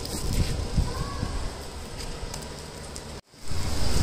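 Light rain just beginning to fall on an open rooftop, heard as a steady, soft broadband hiss with a brief dropout near the end.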